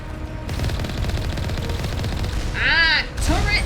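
Automated turrets firing in the video game Mass Effect Legendary Edition, a rapid, continuous stream of shots over a low rumbling background, joined near the end by high, sweeping electronic whines.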